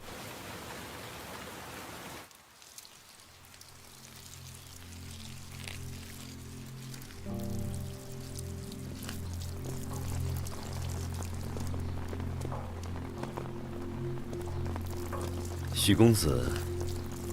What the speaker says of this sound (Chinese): 这下雨天，你为何不在屋里休息，反而跑到这儿来浇花啊？